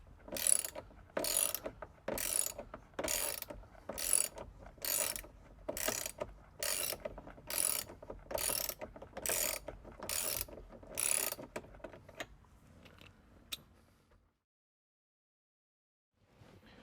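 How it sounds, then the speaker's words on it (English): A ratchet works loose the steering wheel nut on a C6 Corvette, about a dozen rapid clicking bursts in a steady rhythm, close and crisp, then a few scattered clicks before falling silent. "are down to the nut now to get this old steering wheel off."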